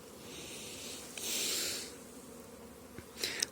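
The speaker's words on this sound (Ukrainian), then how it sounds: "Чуєте, як бджілки літають." Bees on their first flight of the season over a hazelnut orchard make a soft, steady buzzing hum that swells briefly as one passes close, faint and distant against quiet outdoor air with no talking.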